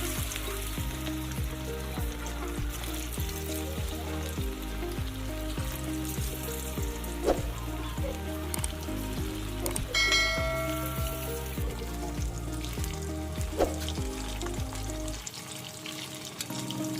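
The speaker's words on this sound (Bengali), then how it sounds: "এবং এইভাবে সমস্ত চিকেনগুলোকে মিডিয়াম লো ফ্লেমে ভেজে নেব।" Chicken pieces for chicken 65 frying in oil over a medium-low flame, a steady soft sizzle running throughout, fairly faint and partly under background music.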